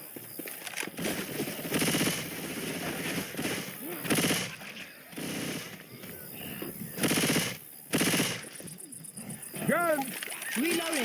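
Loud bursts of automatic gunfire in the zombie shooter Left 4 Dead, Dark Carnival campaign, while players fight a tank. Rapid volleys come in several separate clusters, with voices talking and shouting between and over the shots.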